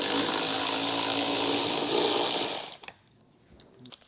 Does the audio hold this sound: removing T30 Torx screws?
yes